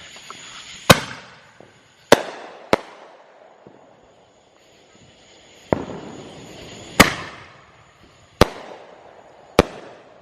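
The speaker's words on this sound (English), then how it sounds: "we got a duo of 5-inch mortars, and it may blow up because they're kind of stiff in there" Fireworks outdoors, including a pair of 5-inch mortar shells, give sharp loud booms at irregular intervals over ten seconds, each with a crackling decay and echo.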